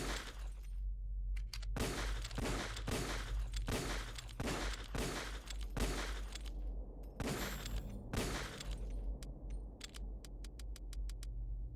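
Gunfire in Metal Gear Solid, a run of sharp, loud shots in an uneven rapid rhythm over a low steady game hum, followed by fainter quick clicks.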